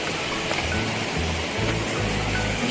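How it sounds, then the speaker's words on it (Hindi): Steady broadband rush of a waterfall beside a mountain road in Kinnaur Valley, Himachal Pradesh, a constant loud roar of falling water with low rumbles underneath and no voices. "वाह देखो कितना क्या मस्त झरना दिख रहा है हमारे किन्नौर वैली के रास्ते में।"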